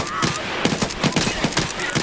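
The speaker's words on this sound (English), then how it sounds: "I wasted a whole mag on this cab." Rapid automatic gunfire rattles in a fast burst of about a dozen close, loud shots as a whole magazine empties in Escape from Tarkov.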